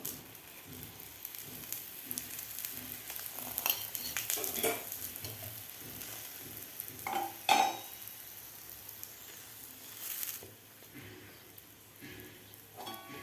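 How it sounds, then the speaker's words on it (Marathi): A crisp jaggery-and-peanut poli roasting in ghee on a hot pan gives a soft, continuous sizzle, with occasional clinks and scrapes as it is flipped and turned. "दोन्ही साईडकडून आपल्याला अशी खरपूस पोळी भाजून घ्यायची आहे"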